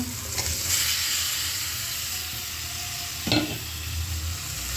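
Beans tipped into a pan of sizzling onion, dried fish and spices, with a steady frying hiss throughout and a short burst of louder crackle and stirring partway through.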